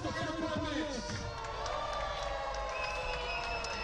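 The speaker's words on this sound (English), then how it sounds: "Let's give a round of applause for Chula Vista Fire Department." A crowd cheering and clapping for the Chula Vista Fire Department at an outdoor event, a dense steady wash of cheers, whoops and applause filling the whole short stretch.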